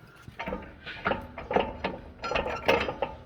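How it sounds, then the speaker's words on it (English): Metal pry bar working under an Igo crane motor to free the jib retaining pin, giving a series of irregular clanks, scrapes and ratcheting knocks, close and moderately quiet, with no talking. "you're gonna get a pry bar. That way you can lift the motor up and pull this pin."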